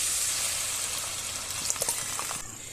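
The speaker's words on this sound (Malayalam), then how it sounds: "മിക്സിയുടെ ജാറിൽ കുറച്ച് വെള്ളം ഒഴിച്ചിട്ട് അതുകൂടെ നമുക്ക് ഇതിലേക്ക് ഒഴിച്ചു കൊടുക്കാം" Water from a coconut-paste grinder jar is poured into a prawn stir-fry sizzling in a pan, giving a steady hiss of frying with a few brief splashes and bubbling spurts near the end.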